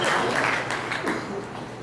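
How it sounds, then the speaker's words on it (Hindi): An audience at a memorial lecture claps to welcome a guest, a short burst of dense crowd applause that eases slightly toward the end. "जरा तालियां बजा कर उनका अभिनंदन करें"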